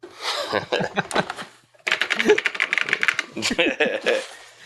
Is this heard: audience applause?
no